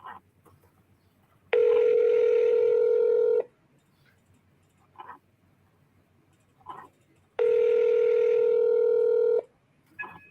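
Two long, loud telephone tones sound while a caller tries to ring someone back, each lasting about two seconds with a pause between them. Short faint bursts and low background noise fill the gaps.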